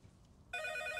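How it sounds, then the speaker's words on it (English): A telephone begins ringing midway through, an electronic bell tone that sounds steadily and moderately loud after a quiet, low background hum. "Oh, it's the phone. The phone's making sounds."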